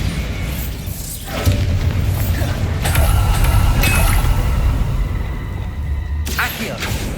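A Bombarda spell goes off in a magical duel as a heavy, close, low-pitched blast that rumbles on for several seconds. Clinks and crackling debris sound above it, and a brief bright burst lands toward the end.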